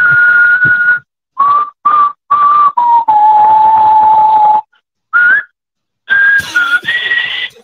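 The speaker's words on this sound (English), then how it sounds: "I'm sorry I had to come in with the whistle" A person whistles a melody in loud, close, sustained tones, broken into several short phrases and one long held note, with pauses of silence between them and no talk over it.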